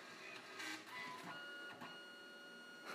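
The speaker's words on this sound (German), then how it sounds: "Okay, die ersten Druckergeräusche sind auch schon zu hören." Canon CP910 compact photo printer powering up and starting its print cycle, a quiet whirring and mechanical feed noise that swells and fades over a few seconds, ending in a short louder clack, with no voices.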